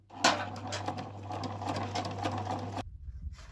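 A sewing machine stitches a folded seam on a two-tone towel bathrobe in a rapid, steady whirring patter for nearly three seconds before stopping abruptly, leaving quiet room tone.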